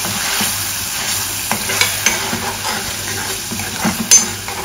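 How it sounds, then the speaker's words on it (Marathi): Green masala paste sizzles and is sautéed in oil in a pan, a close frying hiss broken by repeated scraping stirs and a few sharper clicks of the spoon against the pan. "तर हिरवं वाटण आपल्याला 2-3 मिनिटे चांगले परतून घ्यायचं आहे।"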